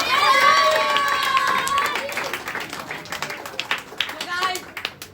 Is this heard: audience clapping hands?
yes